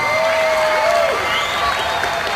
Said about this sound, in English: having a nice round of applause for both fighters